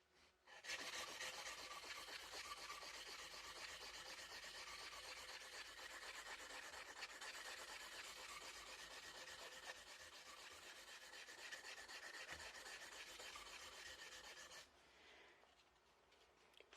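Steady back-and-forth rubbing of abrasive paper on a Winchester Model 70 rifle part, worked up toward 600 grit for polishing; a continuous close scratchy rasp that runs for about fourteen seconds, then stops abruptly.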